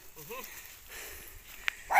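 Dogs greeting new arrivals at a rural countryside home give a few short, high yelps and whines near the start. A louder burst follows at the end, over faint background noise.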